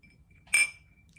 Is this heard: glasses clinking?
yes